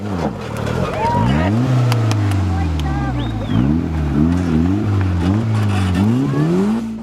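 Off-road 4x4 vehicle in a competitive obstacle course at Parys, engine revving hard in repeated rising and falling surges up a slope, loud and close, with a commentator's voice over it.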